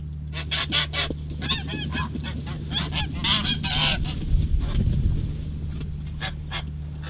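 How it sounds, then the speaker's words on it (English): Geese honking in a field near a tavern on Lundy in the Bristol Channel, a flock calling in repeated loud overlapping honks at moderate distance over a low steady hum. "There's a good chance you'll see or hear geese in the field close to the tavern."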